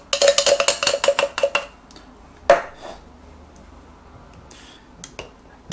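A spoon scraping and knocking in a pan while Thai yellow curry ingredients are mixed, a quick run of sharp metallic clinks followed by a single louder knock and a few faint taps.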